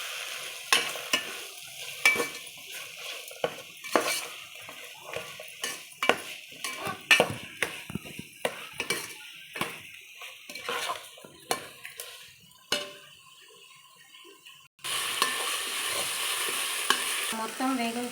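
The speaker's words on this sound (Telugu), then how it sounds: "కడిగిన పుదీనా ఆకులు వేసుకొని వేయించుకోవాలి." Washed mint leaves fry in a pan, with repeated clinking and scraping stirring strokes over a soft sizzle, then a louder, steady sizzle takes over near the end.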